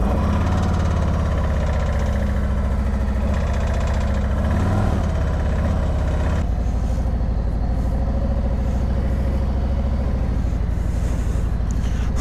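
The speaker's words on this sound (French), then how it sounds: "Première fois pour moi en Harley Davidson, donc voici ma bête. C'est une Road King." Harley-Davidson Road King motorcycle engine running in Los Angeles, a deep, loud, continuous rumble heard close up, shifting in tone partway through with no voices.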